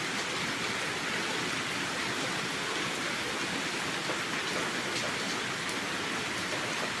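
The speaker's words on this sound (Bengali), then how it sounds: "দেখছো কেমন বৃষ্টি পড়ছে?" Steady rain falling on a cold morning, a dense and even wash of drops hitting surfaces that holds at a constant level throughout, with no voices and no thunder.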